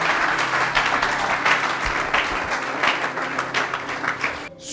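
A church congregation at a Sunday service claps continuously in dense, loud applause with scattered voices calling out, the clapping steady and close before dropping off abruptly at the end.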